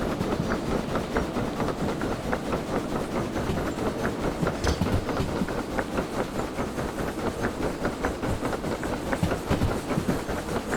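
Steam locomotive wheels roll on rails in the Derail Valley video game, a loud continuous rumbling roar with rapid rhythmic clicks and clanks and occasional squeals, steady throughout.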